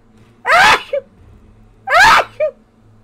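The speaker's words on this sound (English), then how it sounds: "Everyone always has to wait like 1 second to see if I finish sneezing or not." Two loud, close sneezes about a second and a half apart, each a sharp burst followed by a short catch of breath, with no talking.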